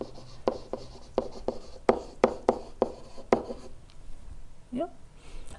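A pen writes by hand during a math lesson on graphing parabolas, producing close, crisp scratching strokes in a quick irregular rhythm, with a brief faint vocal sound near the end.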